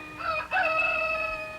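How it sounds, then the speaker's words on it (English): Rooster crowing at a distance, a single drawn-out cock-a-doodle-doo with a brief break in the middle, moderately faint and heard alone. "beckoned by a rooster somewhere"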